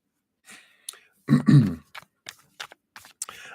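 A deck of reading cards is shuffled close to the microphone during a live reading, with a few short papery riffles and soft taps in sparse bursts and no talking.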